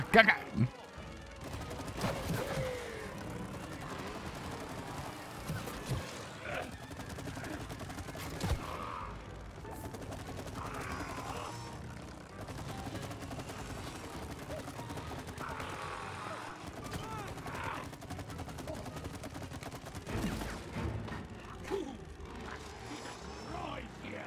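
Rapid bursts of gunfire and crashes from the video game It Takes Two, sharp shots rattling out in clusters over busy game effects while players talk and laugh over the action.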